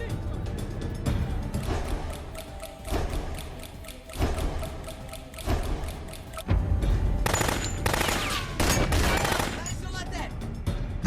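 Gunfire during a hijacking firefight aboard an airliner with French special forces, rapid bursts of shots and thuds in uneven clusters, fairly loud and close throughout, growing denser in the second half.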